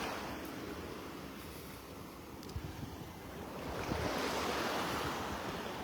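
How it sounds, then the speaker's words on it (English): Small, calm waves lap gently at the shore on a beach in North Naples, Florida, a soft steady wash with a light rumble of wind over the microphone and no voices. "A few little waves lapping up on the shore"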